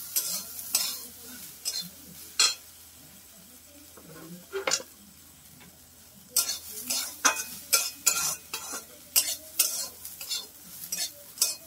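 Soybean chunks fry in a pan under repeated scraping stirs of a utensil, with bursts of sizzling between the strokes, close and irregular; no talk.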